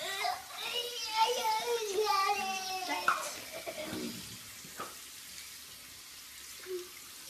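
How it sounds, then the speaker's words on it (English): Tap water runs into a sink in a home bathroom while a boy washes his hands, splashing and trickling close by, with someone talking over it before the flow eases into quiet. "you got to go ahead and wash your hands off"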